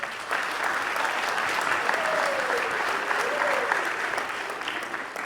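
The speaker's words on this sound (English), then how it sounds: "I want to give her a round of applause." An audience at a winter varsity athletic awards ceremony claps in a steady round of applause that starts abruptly, holds dense and close, then fades slightly at the end, with a voice speaking faintly underneath.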